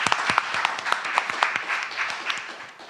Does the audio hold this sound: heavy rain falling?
no